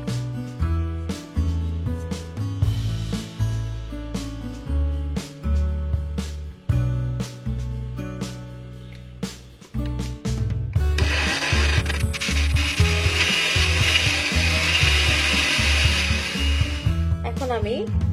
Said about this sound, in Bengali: তো এটা এখন আমি আবার ব্লেন্ড করে নিচ্ছি।